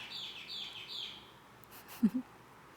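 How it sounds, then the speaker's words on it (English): Birds chirp in Costa Rica with a series of high, fairly faint tweets and calls, followed by a couple of brief, low soft sounds in a quiet outdoor setting. "The birds here, we're in Costa Rica, are just unreal."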